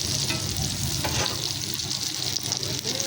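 Eggplant fries in hot oil in a pan, a loud, continuous, close crackling sizzle that holds steady throughout.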